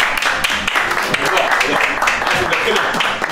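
An audience claps backstage at a comedy show, loud scattered applause heard close up and mixed with talking voices.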